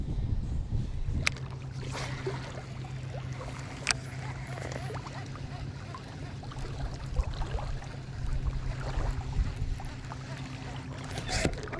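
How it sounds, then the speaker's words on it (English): A boat is paddled away from an island on an Ontario lake, with soft splashes and water dripping from each stroke over a low engine hum and faint outdoor background. A few brief knocks can be heard. "Paddling off the island here."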